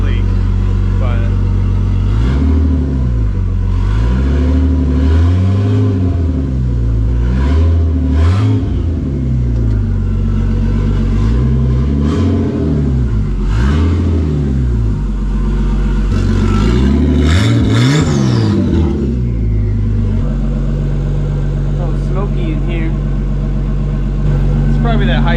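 A Nissan S13 project car engine, running slightly lean after an exhaust leak repair, idles and revs repeatedly in loud rising and falling bursts, then settles into a steady idle. Voices talk over it at times.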